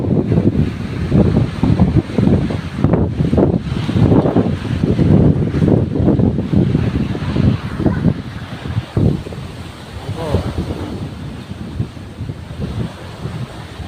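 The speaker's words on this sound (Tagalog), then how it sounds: "Ang hangin, guys." Strong wind buffets the microphone steadily, with a roaring rush of gusts by the sea at Anilao, Batangas, and faint surf underneath.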